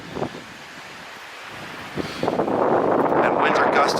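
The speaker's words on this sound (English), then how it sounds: "And winds are gusting well over 40 miles an hour right now." Strong wind gusts roar across the microphone during a 2018 blizzard in southern New Jersey, starting with scattered buffets and then building into a sustained, loud howl.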